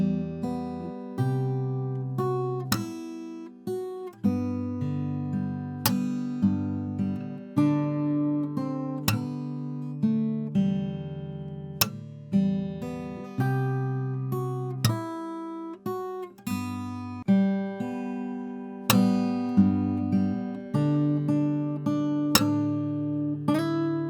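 Fingerstyle acoustic guitar plays the chorus of a song, with picked melody over bass notes, percussive hits and slides, a steady rhythmic pulse of plucked chords running continuously, close and moderately loud with no voices.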